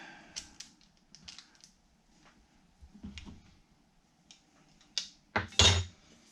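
A spoon scrapes and clinks against butter and parchment paper while making flavored cowboy butter at an RV campsite, giving scattered taps and scrapes that end in a louder clatter.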